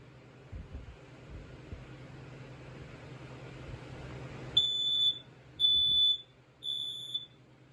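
A Kidde PI2010 smoke alarm gives three loud, piercing high-pitched beeps, each about a second long, over a faint background hum.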